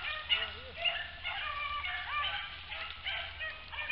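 A pack of hounds bay and yelp in overlapping bursts while chasing a rabbit outdoors, sounding distant and faint, with a continuous chorus of cries over low background rumble.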